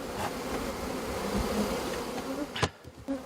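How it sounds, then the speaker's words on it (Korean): Honey bees swarm around migratory beekeepers at work outdoors, a steady dense buzzing close by, with a sharp knock or handling noise near the end. "이 순간에도 벌들의 공격은 계속되고 물 한 잔도 편하게 마실 수가 없습니다"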